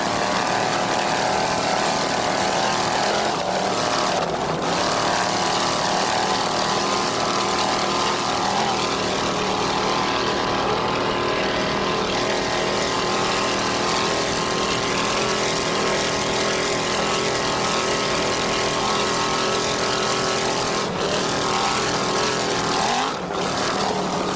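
A 26-foot Scarab racing powerboat with a 600 horsepower inboard engine roars at the 1994 Jacksonville Grand Prix, a sustained high-pitched drone heard from a distance with a slight rise and fall as it runs.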